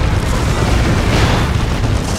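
An orbital bombardment explosion in Dawn of War 2, a loud, dense and sustained boom with rumbling blast noise filling the whole moment.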